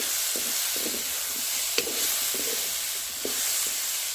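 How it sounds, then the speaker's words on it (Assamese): Vegetables sizzle steadily in a hot pan while a spoon scrapes through them in short, repeated strokes, a continuous close frying hiss underneath. "আৰু এইফালে অকণমান দেৰি পাছত আকৌ এবাৰ লৰাই দিছোঁ।"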